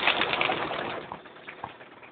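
Soft pigeon coos drift over a steady broadband rustle, a few low calls standing out faintly near the end.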